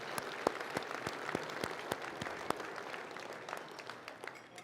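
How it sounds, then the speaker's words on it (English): Conference audience applause rings out, a dense spread of hand claps with sharp individual claps standing out, fairly distant and quiet, fading slightly toward the end. "Let's give a big round of applause for all of our sponsors."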